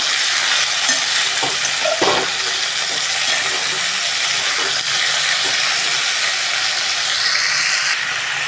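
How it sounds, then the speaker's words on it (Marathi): A steady loud sizzle of potato slices frying in a pan over a medium gas flame, with scraping stirring strokes and a few soft knocks of a utensil. "पुन्हा एकदा ह्याला चांगलं आपल्याला हलवून घ्यायचं आहे"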